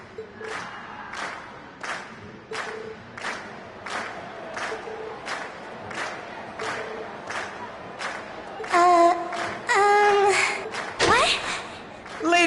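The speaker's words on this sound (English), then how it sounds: "we've heard your cheers loud and clear" An audience cheers and claps after a class performance in Trails. Rhythmic rallying shouts rise into a loud, rowdy burst near the end.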